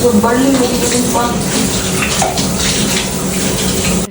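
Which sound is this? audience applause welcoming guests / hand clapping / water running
water running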